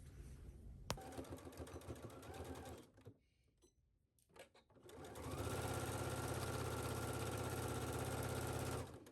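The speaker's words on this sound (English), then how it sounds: "take this to your sewing machine and stitch it at 5/8 of a seam allowance" A home sewing machine stitches a wrap skirt seam at a 5/8 seam allowance, running in a loud continuous hum, stopping briefly midway, then resuming in a long steady run.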